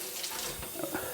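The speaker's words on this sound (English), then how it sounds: "rinse your hands, rinse the shower head and the handle" Water runs steadily from a shower head during rinsing, a continuous hissing splash with slight fluctuations throughout.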